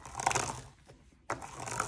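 Diamond painting drills on a canvas pressed down under a roller, giving a soft crunching, crinkling rasp in two close bursts split by a short lull, with no talking.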